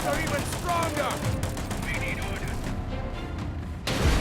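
Nonstop gunfire and explosions from a War Alert WWII mobile strategy battle, a dense unbroken barrage of shots and booms filling the whole stretch at loud, steady volume.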